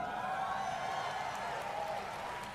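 A large conference audience at Bethesda's E3 2019 presentation gives off a steady, even roar of crowd noise and applause, heard through video playback.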